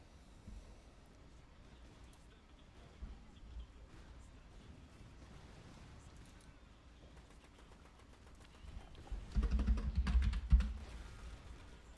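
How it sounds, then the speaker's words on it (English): Rapid, frantic clicking of a computer keyboard and mouse during an Iron Harvest match, faint and steady at first, then bursting louder and denser near the end, with faint background voice. "Oh, here, frantic clicking."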